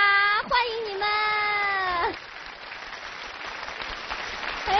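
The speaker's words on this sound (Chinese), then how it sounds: "掌声有请参加这个亲子游戏的小鱼儿一家跟牛牛小朋友一家" A studio audience applauds on a Chinese children's TV show as families are welcomed onstage. A short tonal, voice-like sound rises and falls for about two seconds, then broad, steady clapping fills the rest at moderate loudness.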